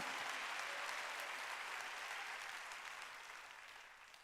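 A church congregation claps together during a Korean Sunday worship service, a dense burst of applause that gradually fades out over about four seconds.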